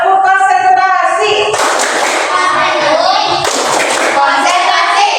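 Children play the tepuk konsentrasi clapping game, bursts of rhythmic hand claps in a counted pattern sounding between loud chanted voices.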